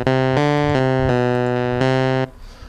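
A Thor synth patch in Reason with its analog oscillators unsynced plays a bright, buzzy sustained tone, retriggered in several even steps before it cuts off and leaves a faint tail.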